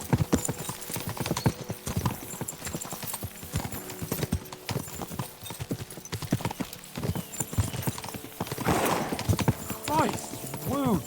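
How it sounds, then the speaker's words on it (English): Galloping horses in the video game Kingdom Come: Deliverance 2, a fast, continuous clip-clop of hooves throughout with occasional whinnies and voices talking over the ride. "We should spur the horses on!"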